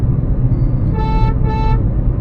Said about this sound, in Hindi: हॉर्न बजाओ हल्का सा और उसके बाद निकलो